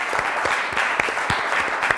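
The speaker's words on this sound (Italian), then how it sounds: "Facciamo un applauso alla regia questa sera che ha bisogno di un po' di carica." Studio audience applause during an Italian TV quiz show, steady clapping with a few sharper individual claps, moderately loud and sustained for about two seconds with no voices.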